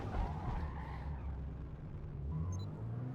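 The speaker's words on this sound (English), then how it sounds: "I go into the grass a little bit there, and I spin out pretty bad." A Toyota Supra GR spins out in Forza Motorsport at Homestead Miami, a steady tire skid and engine rumble that carries through, with a brief higher squeal near the end.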